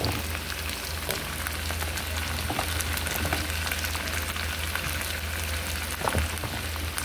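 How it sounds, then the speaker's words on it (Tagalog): Pumpkin (squash) sautéing in a covered pan for ginataang tulingan, giving a steady, dense sizzle and crackle that runs unbroken throughout with no talking. "lagay na natin yung ating kalabasa para po mag-isa-gisa rin siya"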